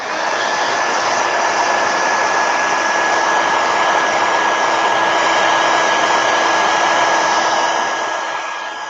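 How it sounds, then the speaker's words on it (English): A heat gun blows steadily and loudly throughout, drying wet paint on paper during a watercolor session, with a constant broadband airflow roar and a faint whine. "I'm going to hit it with a heat gun real quick"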